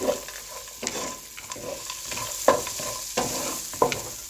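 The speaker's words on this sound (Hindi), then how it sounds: "और अब इस सबको मिक्स करेंगे" Vegetables and a quarter cup of peas fry on medium heat for desi veggie pasta, a soft sizzle broken by several sharp scraping stirs of a spoon in the pan.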